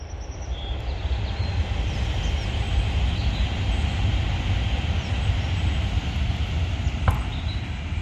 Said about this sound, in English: Excuse the train a moment.